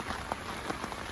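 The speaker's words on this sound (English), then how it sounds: "in this heavy rain" Heavy rain falls steadily outdoors on a winter carp fishing bank, a dense constant hiss of drops spattering on surfaces with scattered louder patters, close and unbroken.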